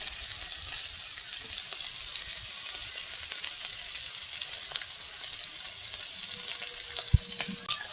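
Potatoes frying in a pan for a potato and poppy seed curry give a steady, close, continuous sizzle, with a few light stirring taps near the end and no voices.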